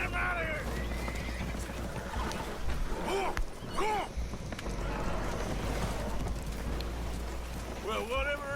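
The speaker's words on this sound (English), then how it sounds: "Horses are spooked, and we're taking on water." Spooked horses whinny and neigh repeatedly aboard a leaking boat in Red Dead Redemption 2, several sharp cries rising over a steady rumble of water and movement, with people talking throughout.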